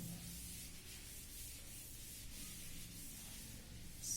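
Chalk or marker writing is rubbed off a classroom board, producing a soft, continuous scrubbing and rubbing noise, faint and steady, with no voices.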